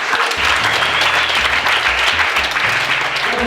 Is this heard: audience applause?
yes